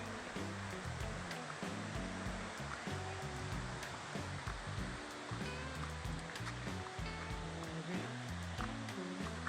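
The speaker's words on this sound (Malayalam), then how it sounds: "ഇപ്പോൾ ഞാൻ വെള്ളച്ചാട്ടത്തിൻ്റെ അടുത്തെത്തിയിട്ടുണ്ട്" A large stream waterfall in Idukki, Kerala, roars steadily nearby with a dense, continuous rush of falling water and no voices.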